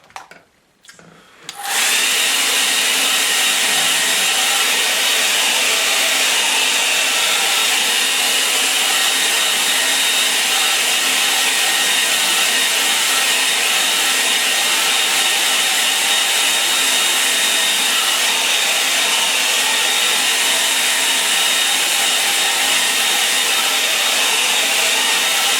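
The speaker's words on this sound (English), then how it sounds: "I'm going to give that a try anyway with a hairdryer" A hairdryer drying watercolour paper switches on after a moment of quiet and blows with a steady, loud whooshing roar that never changes.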